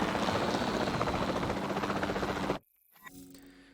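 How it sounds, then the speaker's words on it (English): A capture team helicopter in Jurassic World Evolution 2 gives off a loud, continuous rotor chop with a throbbing whine that cuts off abruptly after about two and a half seconds, followed by faint interface sounds. "Then the sensible thing is to take a capture team helicopter."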